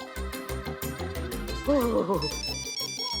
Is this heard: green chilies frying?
no